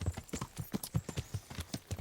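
Horse hooves clip-clop in a steady trotting rhythm in the video game Kingdom Come: Deliverance, with about a dozen quick thuds that stay close and fairly soft.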